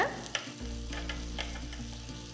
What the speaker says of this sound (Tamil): சின்ன வெங்காயம் போட்டுட்டு கொஞ்சம் லைட்டாக அப்படி வதக்கிக்கோங்க